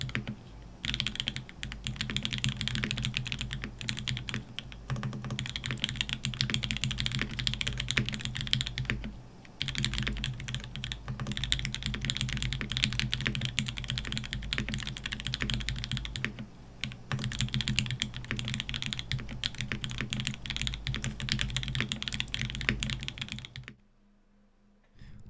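Close-up typing on an ORI CLS-2 65 keyboard fitted with a brass weight and Poron foam dampening, a fast continuous patter of keystrokes with a few brief pauses, ending in silence.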